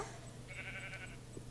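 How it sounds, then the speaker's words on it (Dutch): A sheep in Minecraft lets out a single faint, drawn-out bleat over a low background hum. "Schapen."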